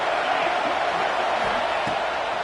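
A college football stadium crowd roars steadily for the defense on a big third down, a dense, loud wash of cheering with no breaks.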